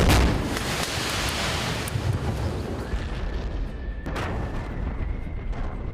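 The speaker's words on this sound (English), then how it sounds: "That's how we do an explosion, Synapse style." A large pyrotechnic explosion and fireball with sparks, set off for a TV show's island scene, bursts with a loud broadband blast and then rumbles and crackles for several seconds, fading slowly.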